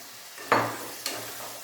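Boiled rajma is tipped into a pan of frying masala: two quick splashy thuds as the beans land, followed by a soft steady sizzle and stirring, with no one talking.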